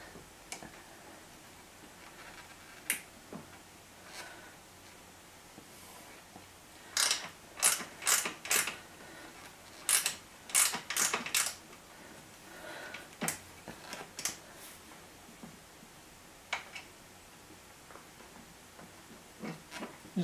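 A wrench ratchets on a bolt while fitting a springer seat to a Triumph Bobber, giving faint clusters of quick metallic clicks with short pauses between them. No one speaks.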